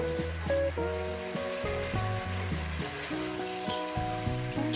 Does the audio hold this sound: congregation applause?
no